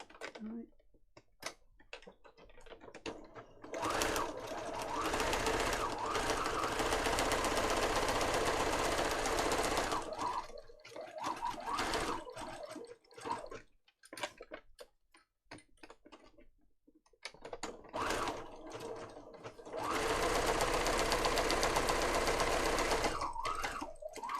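An electric sewing machine stitching a piece onto a junk journal page runs in two long, loud, steady bursts separated by a stretch of start-stop stitching and quiet handling, close to the microphone.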